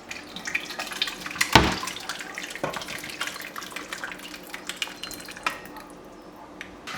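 Leek and potato soup is poured from a container into a large cooking pot, a continuous close liquid splashing and trickle with a sharp clank partway through, fading to lighter dribbles at the end.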